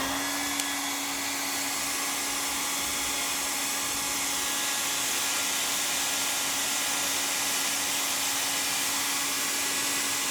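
A hair dryer blows steadily to heat a DHT22 temperature and humidity sensor on an Arduino setup, a loud continuous whooshing motor hum with a steady tonal whine, unbroken throughout and no talking.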